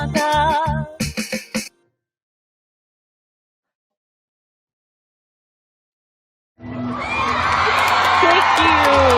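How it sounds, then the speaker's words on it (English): A canned applause and cheering effect from a button pressed during a Canada Performs home livestream, swelling in loud and full after a short spoken phrase and a long silence. "I keep forgetting to press the applause button"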